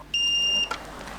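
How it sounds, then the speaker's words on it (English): A Xiaomi Smart Standing Fan 2 Pro gives one long, clear electronic beep of about half a second, followed by a short fainter chirp, in a quiet room. "hear a long beep."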